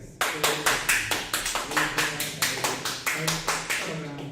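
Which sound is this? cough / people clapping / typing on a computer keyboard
people clapping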